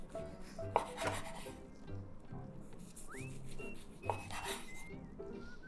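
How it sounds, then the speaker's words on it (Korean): A brush spreads olive oil over rolls of shepherd's purse gimbap in soft, faint rasping strokes that repeat in a loose rhythm, with light clinks of kitchenware and no talking. "이거는 올리브 오일을 발라가지고 카레도 바르는 거 잊지 마세요."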